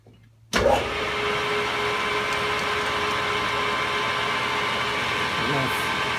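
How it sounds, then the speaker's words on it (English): A metal lathe set to 755 RPM starts abruptly and runs on with a steady whirring motor hum and a faint high whine, close and continuous throughout. "So I've got the lathe currently set for 755 RPMs."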